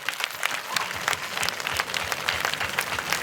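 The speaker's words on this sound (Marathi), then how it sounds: "दोन्ही हात वर करून विकास भाऊंसाठी 10 सेकंद टाळ्या वाजवा बरं" An audience at a Home Minister village program in Ghatnandre claps steadily for several seconds, a dense, even wash of applause heard from close by without speech.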